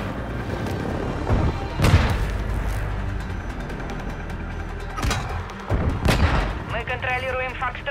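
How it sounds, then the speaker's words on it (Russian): Heavy airstrike blasts land in Call of Duty Warzone 2.0 on the Vondel map, with several loud booms and crackling gunfire around them. Game voice callouts and chatter run throughout. "Наносит авиаудар."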